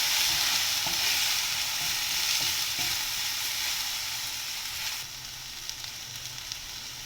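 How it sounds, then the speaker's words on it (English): Tomatoes with turmeric and red chili powder frying in a pan, a loud steady sizzle with occasional spoon taps while being mixed, easing to a quieter sizzle near the end; no voices. "After adding the tomatoes, I am going to add a pinch of turmeric, about 2 teaspoons of red chili powder, giving it a good mix."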